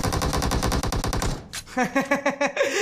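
Automatic gunfire from a shooting video game rattles loud and fast in a long burst, then breaks into shorter separate shots, with no talking.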